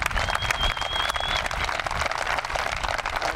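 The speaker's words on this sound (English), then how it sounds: "Once again, a big round of applause for Matthew Branski." Loud, close applause from a crowd at Watertown High School honoring former lacrosse coach Matt Branski, continuous clapping with a faint whistle rising over it early on.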